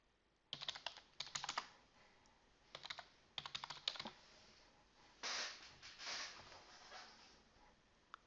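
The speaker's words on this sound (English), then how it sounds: "We need to type our second question." Bursts of typing on a computer keyboard, several quick clusters of key clicks separated by pauses, faint and close, with no one speaking.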